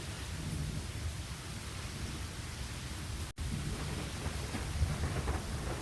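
Steady heavy rain pours throughout a stormy night scene in the game Lost Horizon, with low rumbling thunder woven into the downpour and a brief dropout near the middle.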